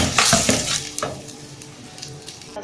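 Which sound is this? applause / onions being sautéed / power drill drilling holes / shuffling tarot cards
onions being sautéed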